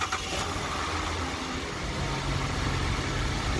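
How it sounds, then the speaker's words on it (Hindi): A Chevrolet Trailblazer engine idles steadily at close range with a low, even rumble, after starting following a crank-but-no-start problem. "अल्हम्दुलिल्लाह गाड़ी स्टार्ट हो गई है"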